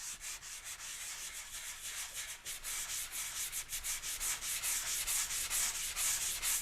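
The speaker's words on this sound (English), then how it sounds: "Got a slight rubberiness to it, but it is sanding okay." Rhythmic hand sanding of dried, slightly rubbery canned spackling on drywall, a raspy back-and-forth scrubbing repeated steadily and up close, with no talking.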